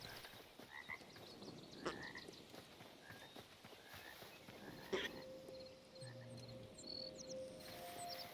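Toads in the game Hytale croaking with scattered short calls over a quiet ambient background, plus a few faint clicks and a soft held tone later on.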